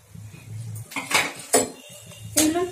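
Whole spices, a cinnamon piece, two cardamoms, cumin seeds and five peppercorns, go into a pan and are stirred, making loud metallic clinks and scrapes of a spoon against the pan in several bursts, close up and with no voices.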